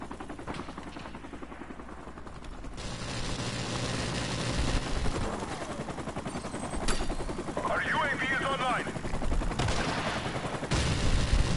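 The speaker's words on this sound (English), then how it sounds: "Another enemy helicopter coming." An enemy helicopter roars in a video game amid continuous machine-gun fire and gunshots, a dense, loud battle wash that swells and holds throughout, with a voice talking underneath.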